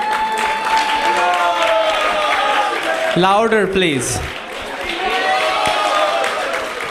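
Crowd at a temple gathering clapping together, steady dense applause throughout, with a voice speaking over it.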